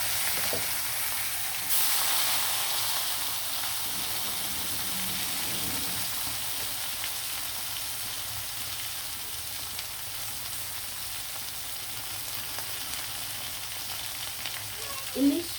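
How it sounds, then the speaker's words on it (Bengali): Hilsa fish pieces fry in hot oil with a long, even hiss of sizzling that stays steady throughout, ending with a brief clatter near the close. "গরম তেলে দিয়ে দিলাম মাছ ধুয়ে ভেজে রান্না করবে ইলিশ"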